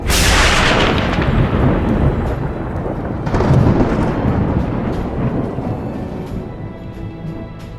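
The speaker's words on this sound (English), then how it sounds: "Lightning brings to mind one thing in particular: thunder." Thunder cracks loudly and close, then rumbles on and fades, with a second heavy rolling boom partway through that dies away slowly into a long low tail.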